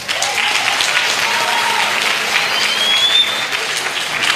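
An audience at a panel talk applauds loudly and steadily, with dense clapping that goes on throughout.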